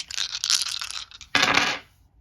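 A game die from the Clue Express board game dropped and rattling, two bursts of bright clattering with a sharp second impact that fades out.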